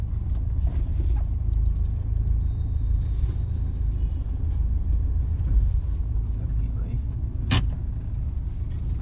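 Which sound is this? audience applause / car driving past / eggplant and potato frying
car driving past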